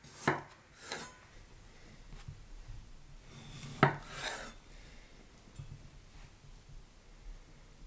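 A kitchen knife slicing tomatoes into pieces on a cutting board: a few sparse, soft chops and taps spaced several seconds apart, close and quiet, with no talking.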